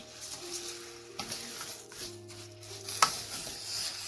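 Bottle gourd leaves seasoned with turmeric, red chili and curry powder get stirred in a pan: scraping, shuffling strokes over a soft sizzle, with a sharp utensil clink partway through.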